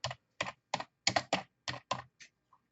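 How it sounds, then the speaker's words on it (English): A computer keyboard types a search query into Google, about eight distinct, close and fairly loud keystroke clusters in an irregular rhythm, with no talk. "I'm going to type in Orange County Public Records."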